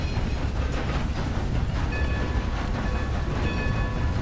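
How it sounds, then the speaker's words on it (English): A train in Red Dead Redemption 2 rumbles along continuously, a dense, loud rolling roar with faint rhythmic clatter, heard alone without talk. "It's a freaking train."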